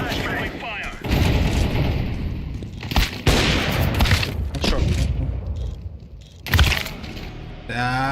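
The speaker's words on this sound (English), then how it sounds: "Throwing flashbang." Gunfire bursts and sharp booms from a flashbang grenade in a multiplayer shooter video game, loud repeated shots in clusters across the clip with players talking over the action.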